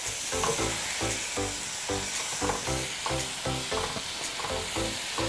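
Turmeric and spices fry loudly in a pan for tofu curry while a spoon stirs them in a steady rhythm of repeated scrapes, about two per second, over continuous close sizzling.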